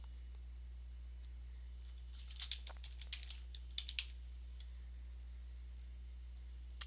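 Computer keyboard typing during data entry, a short burst of light key clicks clustered in the middle, close and fairly faint over a steady low hum, with a couple of isolated clicks at the end.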